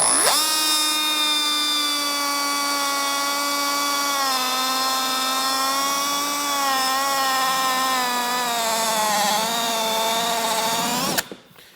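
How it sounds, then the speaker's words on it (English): A step drill bit bores a 3/4 inch hole between a front grommet and latch on a boom audio speaker enclosure, a loud, high whine held for about eleven seconds, its pitch sagging and wavering under load before stopping abruptly. "I'm going to drill a hole right here."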